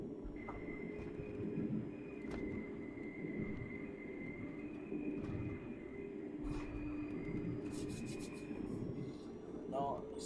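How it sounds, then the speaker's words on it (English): A train in the OMSI 2 driving simulator rumbles along with a steady low drone, scraping and rubbing rail noise, and occasional squeals and clicks, heard moderately loud throughout. "it's nice to be able to just drive the train."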